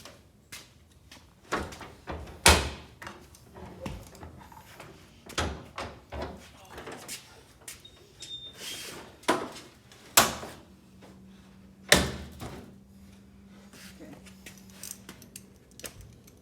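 The bay door of a GM bus being worked open, with loud metallic clanks, thumps and rattles at irregular intervals, a brief low droning tone partway through, and speech mixed in among the hits.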